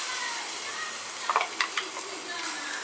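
Ground curry paste hitting a hot clay pot on the stove for a fish curry gives a steady bright sizzle and hiss, with a few light clinks and scrapes partway through.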